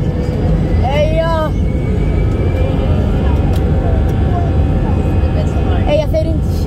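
Air Malta airliner taking off, heard from inside the economy cabin: a loud, steady engine roar fills the whole stretch, with brief children's voices rising above it now and then.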